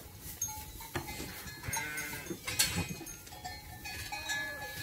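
Ewes in a barn during winter feeding and watering give off mixed livestock noise, with occasional bleats, metal clanks and bell-like tinkles over steady background shuffling.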